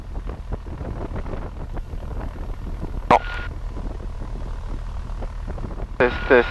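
A Cessna 150 light aircraft engine drones through a takeoff roll, a steady low propeller hum with cabin vibration, while a voice talks over the radio with crackling bursts of transmission.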